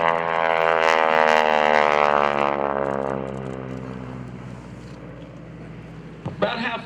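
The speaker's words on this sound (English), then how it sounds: "He'll put the left wing down, give it some right rudder, and you can look right down into the office of the North American Texan" North American Texan propeller airplane flying at an airshow, a loud sustained droning engine roar with a steady harmonic whine that fades somewhat after a few seconds, closing with a brief burst of noise.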